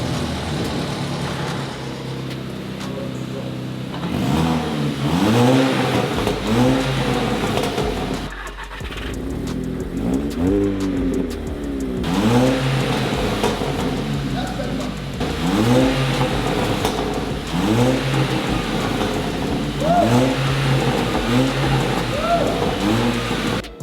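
A stage 2+ MK5 VW Golf GTI fitted with a Miltek R32 exhaust is revved repeatedly up close, each loud rising and falling blip coming in clusters over a steady idle.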